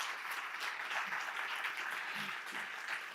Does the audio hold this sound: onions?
no